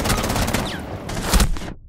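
Suppressed SMG fire in Rainbow Six Siege, heard as several quick muffled bursts spread over about two seconds, close and fairly loud, with no talk over them.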